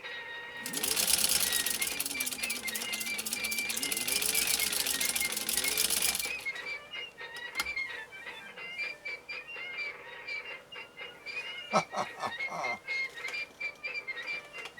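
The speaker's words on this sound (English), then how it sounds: "A standard zigzag using the Singer automatic zigzagger." A Singer Centennial 15-91 sewing machine fitted with an automatic zigzagger runs a wide zigzag stitch in a loud, rapid mechanical rattle for several seconds, then stops, leaving scattered clicks and small handling noises.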